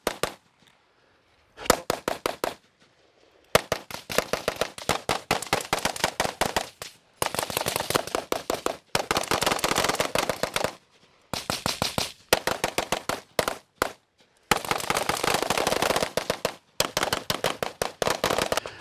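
Rapid pistol fire at a shooting range during 10-yard drills: loud, close strings of shots crackle in fast bursts, separated by brief pauses between volleys, with no talking.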